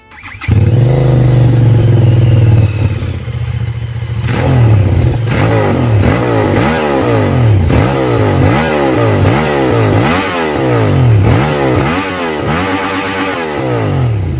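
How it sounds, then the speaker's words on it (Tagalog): A sportsbike engine with a 360 degree firing order starts and idles loudly up close, then is revved repeatedly in rhythmic rising and falling surges. "talagang big bike sounds ang engine nito dahil na din sa kanyang 360 degree firing order"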